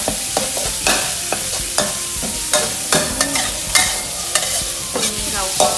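Shrimp stir-fries with fragrant garlic in a pan for a glass noodle dish. Loud, close utensil scrapes and clacks come in a quick irregular rhythm over a continuous sizzle.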